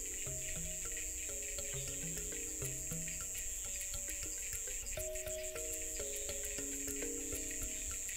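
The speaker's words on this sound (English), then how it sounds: "The cicadas are in song." Cicadas and other insects sing in a Madagascar jungle, a constant high-pitched buzzing drone layered with chirps and croaking calls, dense and continuous with no voices.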